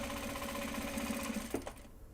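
A sewing machine stitches a project bag made from Japanese fabric, running in a fast, steady rhythmic whir that stops abruptly near the end, leaving quiet.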